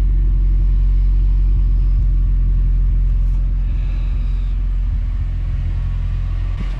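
A car engine idles steadily with a loud, constant low rumble, close by and continuous throughout, with no talking; the engine runs smoothly with no clacking.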